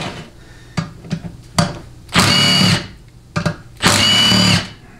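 A power tool removes bolts from a 6L90 transmission during teardown, with two sustained whirring bursts of about half a second each separated by short clicks and taps, loud and close.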